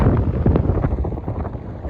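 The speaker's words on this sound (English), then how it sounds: "it's really windy." Strong gusty wind at the beach on the Îles de la Madeleine buffets the microphone in a steady, loud low roar, with nobody talking.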